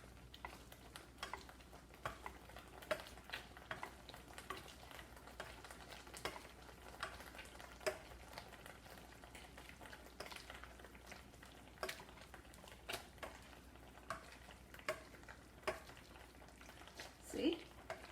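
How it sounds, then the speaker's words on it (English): Hot cooked vegetables for pav bhaji are mashed in a pan, giving a steady run of soft, wet squelching and scraping strokes with faint sizzling underneath, close and moderately quiet throughout with no talk. "I will mash them right away to mix together"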